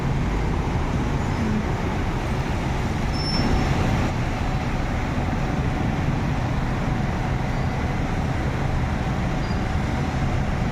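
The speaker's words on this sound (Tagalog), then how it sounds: "Ang traffic na." Steady road traffic rumble from cars, buses and trucks on a busy street, heard during heavy rain, continuous and fairly loud with no voices.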